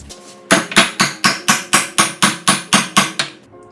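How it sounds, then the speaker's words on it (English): A hammer drives an Energy Suspension polyurethane trailing arm bushing into the trailing arm of a 1988–1999 Honda Civic: ten sharp, evenly spaced metallic strikes, close and loud, with no talking. "use a trusty hammer."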